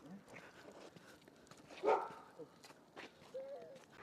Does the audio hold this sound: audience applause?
no